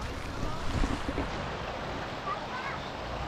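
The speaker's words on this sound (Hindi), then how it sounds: "ये देखिए ये बहते हुए रिवर है पूरी।" A Ganges tributary on the Neelkanth Road near Rishikesh flows by in a continuous nearby rushing wash, with a few low bumps and some wind noise over the microphone.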